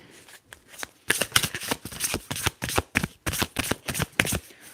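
Tarot cards shuffled by hand for an ASMR reading, a close series of about a dozen crisp, evenly spaced riffling bursts in a steady rhythm.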